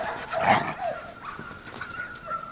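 Young black dogs playing with a coyote give out a burst of excited barks and yips, loudest near the start, then fade into a thin whine and softer noises.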